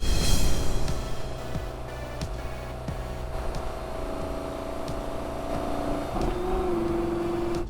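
A Lamborghini Gallardo Balboni edition, rear-wheel drive, driving on the road: a steady engine drone with a rising rev near the start, then a sustained cruising hum and a shift in pitch toward the end.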